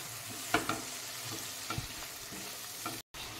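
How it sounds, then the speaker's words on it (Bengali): Salted masala being stirred and fried down in a pan for a chitol (knife fish) curry, giving a low continuous sizzle broken by a few spoon scrapes, close-up and quiet, ending with a brief cut to silence. "দিয়ে খুব ভালোভাবে এটাকে নাড়িয়ে দিতে হবে আর আমি খানিকক্ষণ এটাকে কষিয়ে নেব।"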